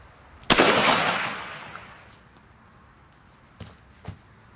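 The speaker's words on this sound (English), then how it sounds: "I have to shoot the zombie in the head." A single loud gunshot fired at zombies rings out and decays over about two seconds, followed by two fainter sharp knocks, close and without talking.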